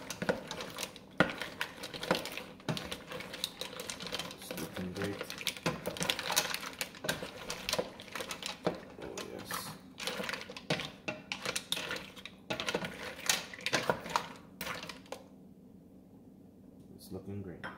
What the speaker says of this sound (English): Just mix it all up.